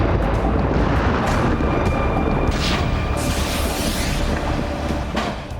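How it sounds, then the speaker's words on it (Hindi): A drone strike explosion at the Ryazan oil refinery, where the blast fed the fire. It comes through as a loud, continuous, heavy roaring rumble that stays steady throughout and fades only slightly at the end, with no voices. "रेजान ऑयल रिफाइनरी में फिर ड्रोन से धमाका हुआ है जिसकी वजह से आग और भड़क उठी"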